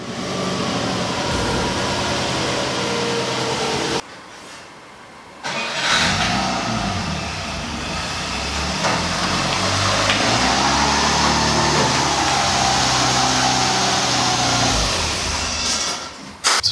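A Porsche engine, freshly refilled with oil, cranks and catches, then idles and revs with a steady mid-range hum and rising swells, briefly dropping before starting again, close up with no talking.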